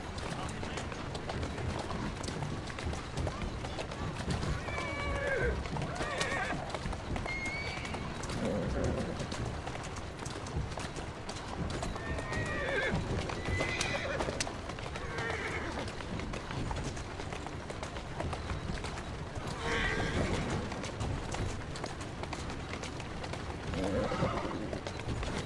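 A horse in Assassin's Creed Syndicate keeps up steady hoofbeats for the whole stretch. Occasional neighs and whinnies break through, with people talking over the sound at times.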